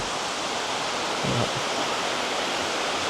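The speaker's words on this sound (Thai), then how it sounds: "น้ำตก" Thararak Waterfall in Tak province, Thailand, roars as a steady, dense broadband rush of falling water, loud and unbroken throughout.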